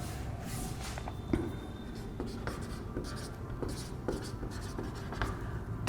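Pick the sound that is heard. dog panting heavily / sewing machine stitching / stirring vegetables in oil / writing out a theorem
writing out a theorem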